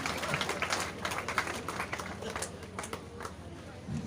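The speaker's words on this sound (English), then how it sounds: "give her a round of applause, everybody" An audience applauds at a prize ceremony for a rain run, with a steady patter of many hands clapping at moderate distance under an announcer's amplified voice.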